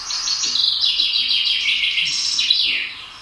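A chaffinch sings a bright, rapid song of descending trilled phrases ending in a flourish, clear and fairly close, repeated twice with no talking.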